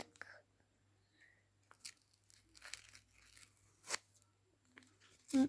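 A small packet for a mask-craft sticker book is torn open with a few short, soft ripping and crinkling bursts, quiet and close, the loudest near the end.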